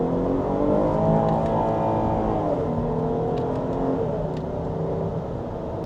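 A 2024 Jeep Grand Cherokee L Summit Reserve with its V6 engine accelerating, giving a steady, loud drone from inside the cabin whose engine tones rise and then shift through a gear change, with no talk over it.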